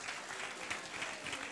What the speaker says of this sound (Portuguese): Vamos aplaudir todo mundo aí.